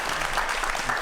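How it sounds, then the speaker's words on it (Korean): An audience claps at a lecture event, a dense and even patter of many hands, steady and moderately loud through the whole short burst. "함께해 주신 두 분에게 감사의 박수 부탁드리겠습니다"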